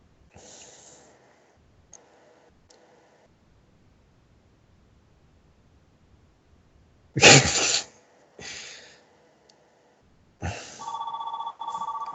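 A telephone rings in short electronic bursts near the end, after a quiet stretch with a few faint breathy sounds and a sharp snort-like burst.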